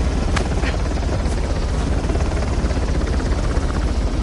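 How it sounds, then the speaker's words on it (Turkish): A helicopter hovers overhead in the video game Uncharted, a loud continuous rotor thrum and whine filling the whole stretch without talk. "Helikopter de tepemizde."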